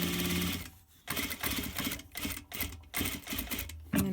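Sewing machine stitching a neckband seam, a busy mechanical whirr in several short runs broken by brief pauses, close and steady with no voices.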